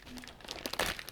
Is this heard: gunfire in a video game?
no